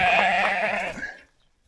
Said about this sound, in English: Looks like we got a sheep in the yard.